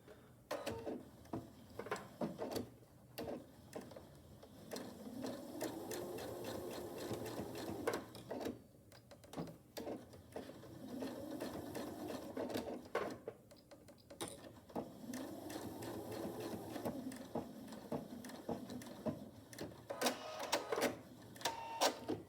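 A home sewing machine stitches a DIY fabric face mask with a pipe cleaner enclosed, running in repeated bursts forward and back, with short pauses between runs.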